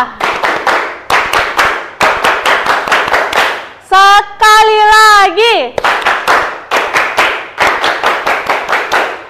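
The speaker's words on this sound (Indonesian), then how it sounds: "Tepuk pramuka." A group claps in a fast, patterned scout-style rhythm, pausing for a chanted sung phrase, then resuming the clapping sequence; children's voices join in.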